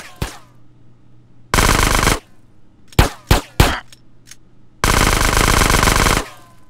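Loud bursts of automatic machine-gun fire in GTA San Andreas: two long sustained volleys framing a few sharp single shots, close and dominant with little else around.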